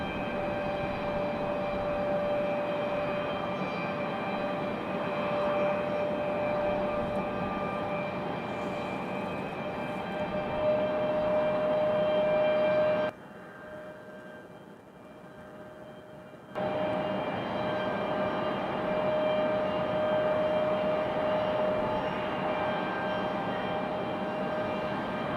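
A Southwest Airlines airplane at Raleigh-Durham airport gives a steady, loud jet roar with a tonal whine. The roar drops sharply for a few seconds midway, then returns at full strength. No one speaks.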